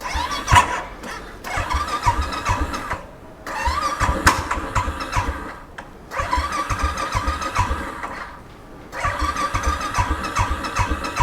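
A car on a cold night near Manali: the engine cranks in several long, loud bursts separated by short pauses, churning close by and nearly catching each time, with no talking.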